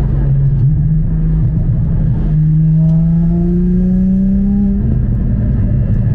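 A Porsche Cayman GT4 981 engine pulls hard through the revs, a deep, muffled low-pitched drone rising steadily in pitch across a long gear, then dropping briefly at a shift before climbing again, loud and close with no talk.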